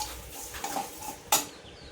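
A chutney with red chilli powder is stirred and sautéed in a pan, with soft scraping and a few sharp clinks of a utensil against the metal, one louder knock near the end and no voices.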